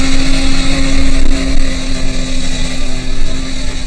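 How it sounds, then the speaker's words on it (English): A late-model snowmobile drones loudly and steadily while hauling a sled across Arctic ice, its engine tone constant and close, with wind buffeting the microphone throughout. "I'm riding in a Kalmatik, dragged by a late model snow machine"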